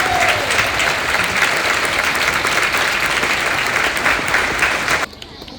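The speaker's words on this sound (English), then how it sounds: "Give yourself a big round of applause." Loud, dense audience applause at a seal show at Taronga zoo, sustained for about five seconds with some voices underneath, then cutting off abruptly.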